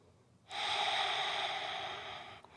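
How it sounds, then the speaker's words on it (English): A heavy breath during a yoga class, one long forceful exhale of about two seconds, close and loud, with nothing else around it. "Breathing."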